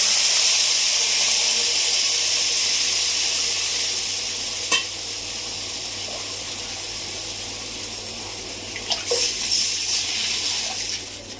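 Turmeric and water go into a hot frying pan while cooking a Bengali aar fish curry, giving a loud, steady sizzling hiss that eases off over several seconds, with a couple of quick spatula scrapes near the end.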